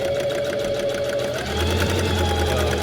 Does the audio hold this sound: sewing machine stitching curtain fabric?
yes